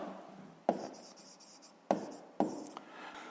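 A pen writing on paper during a sixth-grade maths exercise, soft scratching strokes with a few sharper taps as the pen lands, close and quiet with no talk.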